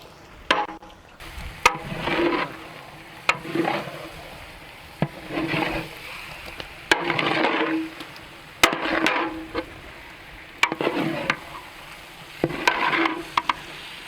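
Chicken kabsa stirred in a frying pan, with rhythmic bursts of scraping and tossing over a steady sizzle, each stroke punctuated by a sharp knock of the utensil against the metal.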